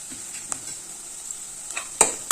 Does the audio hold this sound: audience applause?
no